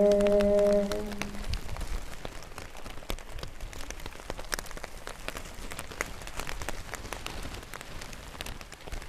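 Rain falling steadily on a surface, a dense patter of many drops throughout, fairly soft and even, with a brief tonal sound at the very start and no voices.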